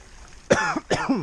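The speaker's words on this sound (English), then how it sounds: "cough after I eat." Two quick, close coughs from a person who has just finished eating on a hiking trail stop, harsh and throaty with a short gap between them, alone in a quiet room.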